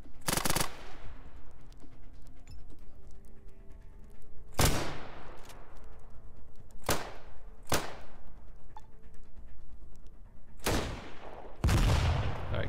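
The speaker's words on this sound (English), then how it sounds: "Let's take a burst fire." Several loud, sharp burst-fire gunshots crack out in ATOM RPG: Trudograd, spaced a few seconds apart over a steady low background hum, with a heavier final burst near the end.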